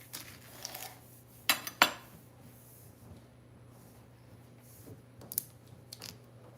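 A knife slices an avocado on a cutting board for an avocado toast topping, with a few sharp clicks and taps against quiet kitchen background noise.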